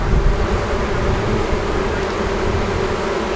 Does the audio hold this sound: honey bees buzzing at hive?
yes